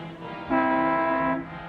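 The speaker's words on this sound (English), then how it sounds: "What are you honking the horn for?" A car horn blares in a dark-street film scene, one sustained honk lasting just under a second, loud and close, over a low background rumble.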